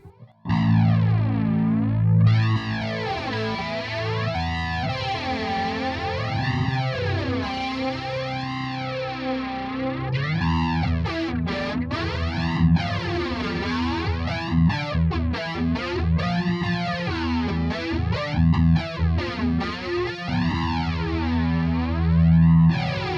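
Heavily distorted electric guitar played through a Neural DSP Quad Cortex with swirling, sweeping effects, chords ringing and shifting continuously for the whole stretch, loud and up close.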